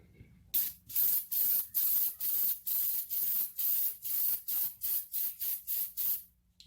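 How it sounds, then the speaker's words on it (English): Silicone spray hisses onto the air filter of a 2012 Toyota Corolla in about thirteen short, evenly spaced bursts, close and sharp, with quiet gaps and no talking. "we're going to put some silicone spray and let it wick into this filter just a little bit"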